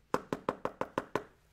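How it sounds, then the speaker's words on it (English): Seven evenly spaced knocks on a door, close and fairly quiet, in a quick steady rhythm with nothing else heard. "Knock on Pickle Pumper's door."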